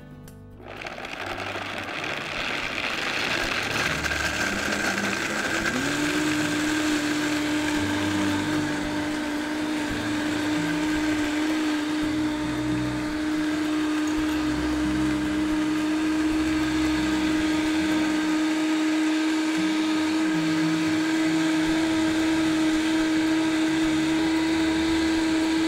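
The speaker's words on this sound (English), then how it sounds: "turn up to high and let it run for about 30 seconds to get a really smooth texture" A Vitamix blender runs on high, blending homemade almond milk with a loud, steady whir that holds its pitch throughout, alone without talk.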